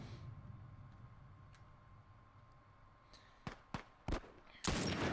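A few sharp gunshots crack out in quick succession in The Last of Us, ending in a louder burst, over a quiet, hissy backdrop.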